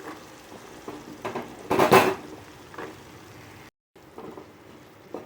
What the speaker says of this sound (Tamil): இந்த வெஜிடபிள்ஸை கொஞ்சம் நல்லா வதக்கி விடணும்